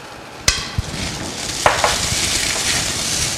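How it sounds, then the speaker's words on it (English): Rice, mushrooms and dry spices including garam masala and red chili powder being stirred and sautéed in a pan, a soft continuous sizzle with a few sharp utensil knocks against the pan. "we're going to saute this for just a minute until the rice gets all coated"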